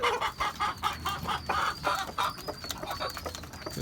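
A Tiger breed rooster clucks nearby on a rooftop, in quick, repeated bursts, a busy run of throaty calls with little pause between them.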